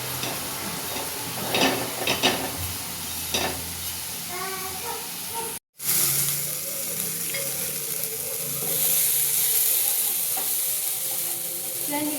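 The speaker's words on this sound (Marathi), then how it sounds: "जास्त चांगलं तेल सुटेपर्यंत याला परतून घेते" Chicken masala sautéing in a pan until the oil separates, a steady sizzle with scraping and clanking stirs, then a brief cut to near silence before the frying returns, louder and hissier.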